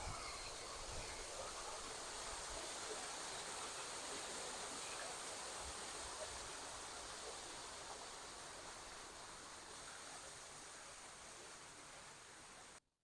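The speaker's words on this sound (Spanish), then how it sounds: "Hay una mini cascada debajo." A small waterfall spilling onto a stony beach in Nice gives off a steady, broadband rush of water. It holds constant and fairly near for the whole stretch, then cuts off abruptly at the very end.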